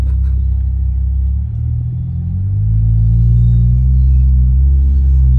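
Modified car engine and exhaust droning while driving, a loud, low, steady rumble that dips briefly and then swells back as the car pulls along.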